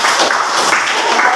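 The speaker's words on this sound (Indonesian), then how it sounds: "Baik, tepuk tangan dulu." Students in a class clap together in a dense, even patter that fills the whole brief moment, with no voices over it.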